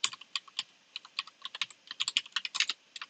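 Fingers type quickly on a computer keyboard, a close run of irregular light clicks and taps with no voices.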